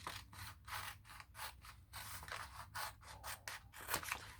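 Scissors snip through sheet material along printed guide lines, a steady run of about a dozen crisp, close cuts with no talking.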